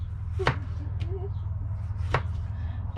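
A knife chops fresh salsa ingredients on a cutting board: two sharp, separate strikes about two seconds apart, close by, over a steady low hum.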